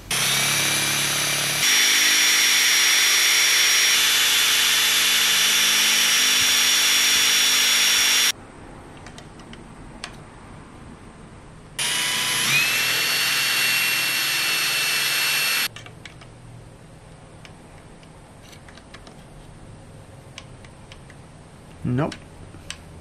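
Power drill boring tuner holes through a wooden guitar headstock, following a pilot hole: two loud sustained whining bursts of several seconds each, separated by quieter handling noise and faint clicks, with a brief rising tone near the end.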